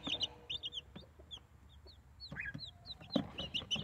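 Backyard Barnyard Mix chickens cluck and chirp softly in short, scattered calls among the flock. The calls are faint to moderate, with a few louder squawks and quiet background rustling, and no talk.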